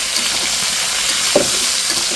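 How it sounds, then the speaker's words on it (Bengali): Pangas fish head frying in hot oil, a loud, steady close-up sizzle and crackle that fills the short stretch without any talk. "মাছের মাথাটা কিন্তু আমার ভাজা হয়ে গেছে"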